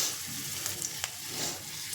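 Chopped ginger pieces fry in hot oil for a star fruit chutney, a soft, steady close sizzle with a few faint stirring taps, brief and without talk.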